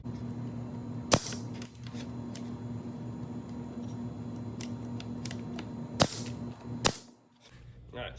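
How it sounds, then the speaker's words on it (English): A nail gun drives 1-inch brad nails into a wooden fence picket, firing three sharp, loud snaps spaced a few seconds apart over a quiet background hum. "Now I'm just using 1-inch brad nails"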